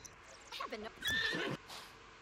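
A horse in The Sims 4 gives a short, bright whinny with rising and falling pitch, clear and close, preceded by softer snorting vocal sounds on a ranch during training.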